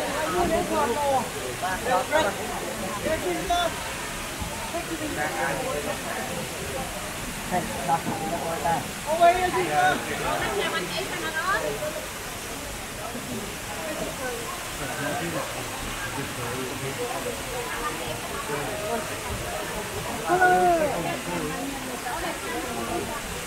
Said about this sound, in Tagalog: Sobrang waterfall na guys.